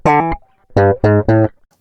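Clean electric guitar plays a short looped phrase of three or four bright plucked notes, close and clear, with no voices.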